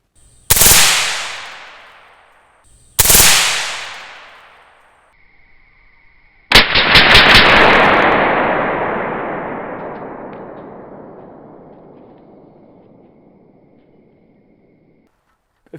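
Three loud suppressed gunshots from a gun fitted with a vented end cap suppressor, each a sharp crack followed by a long decaying echo, the last one ringing out over many seconds.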